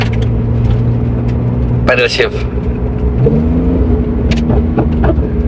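Porsche RWB sports car engine revving hard with exhaust pops and bangs, a loud rumbling drone under excited talk from people nearby, with a sharp burst near the middle.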